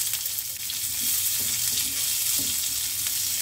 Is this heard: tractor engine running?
no